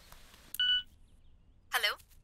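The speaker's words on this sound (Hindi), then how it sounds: "रागनी, सिम्हा चलम को फोन करो।" A telephone keypad gives a short burst of dialing tones, followed by a brighter electronic chirp a second later, both clear against a quiet background with no talking.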